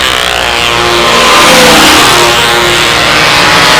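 Model airplane engines at a breezy fly-in give a loud, steady, high-pitched buzz that holds at constant strength. Their pitch shifts slightly as they run.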